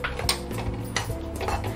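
A spoon stirs roasted semolina with jaggery and cardamom powder in a pan for rava laddu, making close, irregular metallic scrapes and clinks with no voices.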